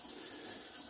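Brief, soft splashing and trickling of water as a pork casing is dipped into a container of water, close and faint with no talk.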